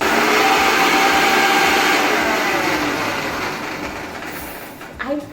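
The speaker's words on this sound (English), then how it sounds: "put that all into the mixie, into the small jar, and then put it here" A mixie mixer grinder whirs loudly as it grinds green chilies and garlic in its small jar, a steady high motor drone that slowly winds down and stops, followed by a brief clatter.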